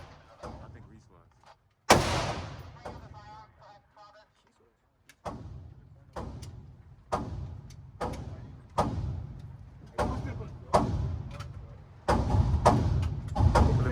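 Gunshots at a shooting range from a handgun, a series of sharp loud reports spaced about a second apart, some in quicker pairs, with people talking between shots.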